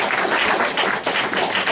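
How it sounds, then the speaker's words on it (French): An audience applauds for organic farmers at a Slow Food talk, with loud, dense clapping filling the short stretch without a break. "Je vous demande d'applaudir bien fort nos amis paysans."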